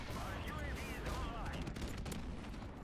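Explosions and gunfire from an airstrike on the Shipment map in Call of Duty 4: Modern Warfare Remastered, a muffled rumble with scattered sharp cracks under constant game noise, fairly faint and distant.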